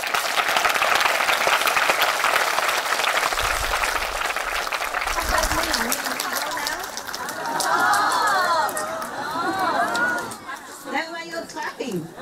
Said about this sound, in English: That's why you're clapping.